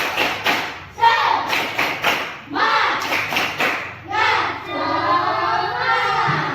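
Schoolchildren in an elementary classroom doing the rhythmic tepuk semangat clap, sharp close claps in quick patterned bursts with pauses between, while the children chant and shout together between the clapping.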